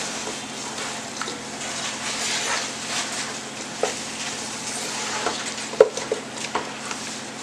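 Chicken pieces frying in a pan for biryani are stirred, giving a steady sizzle with soft scraping and occasional sharp clinks of the spoon against the pan, and no talk.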